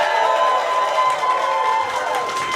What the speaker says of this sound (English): You'll applaud ruckusly, be super excited.